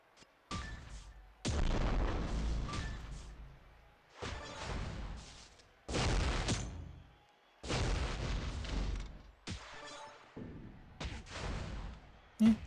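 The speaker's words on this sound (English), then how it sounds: "those ones that are at 1 are going to blow up blast gems, so should get a decent chain reaction" Blast gems exploding in a chain reaction during a video game, a series of loud booming bursts that come in several separate clusters, each ending abruptly before the next begins.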